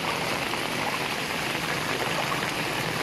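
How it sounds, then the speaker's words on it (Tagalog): Strong current of flowing floodwater at a blocked drain during bad weather in Masbate, a dense continuous rushing and splashing roar, loud and close, with no voices. "lakas ng agos."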